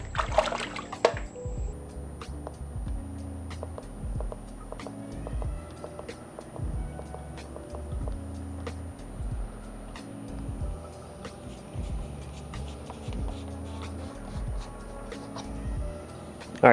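An aquarium protein skimmer runs in water with a low, rhythmic pump churn and steady trickling, punctuated by small splashes and drips throughout.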